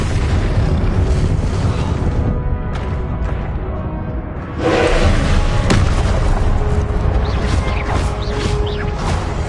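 Spell blasts from Confringo and Expelliarmus in Hogwarts Legacy, a steady barrage of loud booming bursts, with a heavier surge of explosions midway through.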